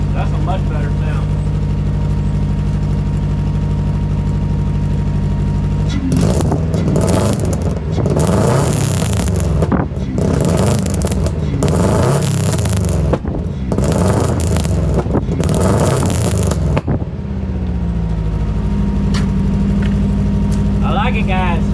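A car engine, just repaired after a no-start fault, revs up hard in bursts for about ten seconds and then drops back to a steady idle. Loud and close, with a voice speaking over it.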